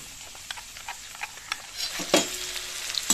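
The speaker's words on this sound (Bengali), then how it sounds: "আর 1 চামচ হলুদ দিয়ে ভালো করে নেড়েচেড়ে মশলাটা মিশিয়ে নেব।" Ground spices with red chilli, black pepper and turmeric being stirred in a hot pan, a steady crackling sizzle with scraping ladle strokes and a few clinks, close and alone without talk.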